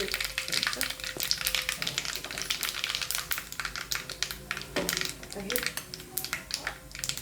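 Asafoetida dropped into hot oil with cumin crackles and sizzles in a dense, busy stream, with scattered clinks of a utensil against the pan and a voice speaking over it.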